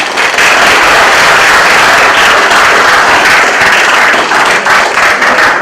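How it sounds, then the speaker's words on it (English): A large crowd at an MBA alumni interaction event applauds, a loud, dense and continuous roar of clapping that stays at full strength from start to finish with no talk. "a good amount of applause for all the alumni"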